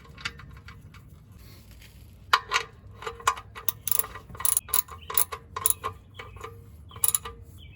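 A ratchet wrench clicks in quick, uneven bursts while snugging an engine oil drain plug fitted with a new washer, loud and close with short pauses between strokes and no talking.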